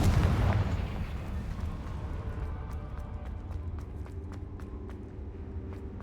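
A Confringo blasting curse from Harry Potter goes off with a heavy explosive boom at the start that decays into rumble, followed by faint scattered ticks and crackles.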